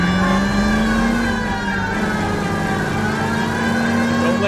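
A car in the L.A. Noire video game drives and revs with a loud, close engine drone that climbs slightly, then holds steady throughout with no voices.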